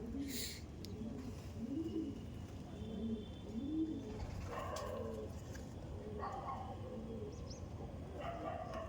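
A released female Andhra pigeon gives several soft, rolling coos in succession, faint and close, with dog-like barks and scattered background noises later on.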